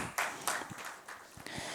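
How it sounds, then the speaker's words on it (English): A few scattered hand claps ring out, sparse and uneven, like the start of a small round of applause. "can we give ourselves a big, big round of applause, please?"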